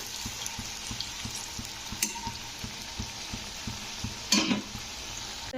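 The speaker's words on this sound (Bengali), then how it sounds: "এইভাবে কিন্তু একটু লাল লাল করে ভেজে নেব মুলোর পকোড়া" Radish pakoras fry in hot oil in a wok with a steady, close sizzle, broken by occasional light stirring taps and one brief louder splash-like crackle.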